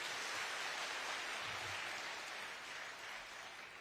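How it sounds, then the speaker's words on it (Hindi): A crowd applauding at a political rally, a broad continuous wash of clapping from many hands that holds steady and then eases slightly, with no voices over it. "ताली मारो थोड़ा जोरदार।"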